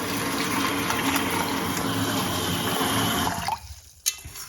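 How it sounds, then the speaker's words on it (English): Cold tap water runs steadily into a bowl of rice being washed, a dense close gush that cuts off near the end, followed by a couple of small knocks. "Wash it with cold water."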